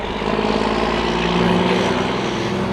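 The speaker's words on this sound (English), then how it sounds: "And that is the ATR-72 from Silver Airways. It's going to be landing there." A Silver Airways ATR-72 turboprop airliner comes in to land, its steady propeller and engine drone loud and continuous throughout with no voices.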